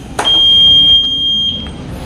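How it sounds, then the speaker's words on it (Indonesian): A digital speedometer sensor on a tuned-up 2007 OJMX motorcycle gives a single sustained high-pitched beep lasting over a second, loud and close, after a brief click. "itu adalah tadi bunyi beep dari sensor"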